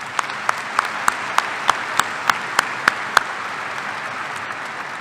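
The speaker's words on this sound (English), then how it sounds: "Let's go and clap for them folks" At a Tennessee Tech University spring commencement, the audience claps for honored guests: crisp, evenly spaced claps ring out close by in a steady beat over a softer background wash of crowd applause.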